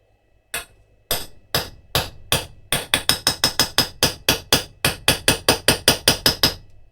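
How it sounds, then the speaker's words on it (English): Sharp repeated knocks of butter being knocked out of its container, starting sparse then settling into a fast steady run of about twenty hard raps, close and loud with no talking. "Sorry for the noise, I'm just knocking the butter off."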